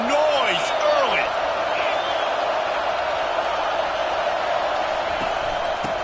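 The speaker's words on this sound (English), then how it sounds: "This crowd bringing the energy and noise early." Dense, loud crowd roar fills the stadium at a Florida State football game against the Gamecocks, a steady wash of cheering and whoops throughout, with a voice briefly audible over the noise near the start.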